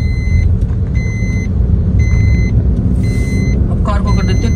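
A car engine hums steadily while driving through traffic, with a continuous low rumble as the driver shifts from second into third gear; someone talks over the engine noise.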